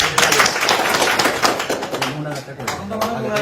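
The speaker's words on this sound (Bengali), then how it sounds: "সবাই তালি দেয়।" A crowd clapping at a gathering honouring freedom fighters, a dense patter of hand claps mixed with voices, loud and close, thinning out toward the end as speech takes over.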